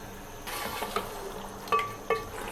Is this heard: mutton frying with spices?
yes